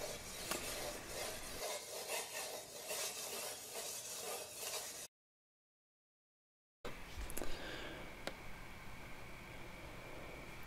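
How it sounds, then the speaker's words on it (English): A medieval longsword edge being sharpened on a belt grinder and sharpening stones: steady, close abrasive rubbing and rasping strokes in two separate passes with a silent gap between. "I'm going to start on the belt grinder for this and move on to several sharpening stones to"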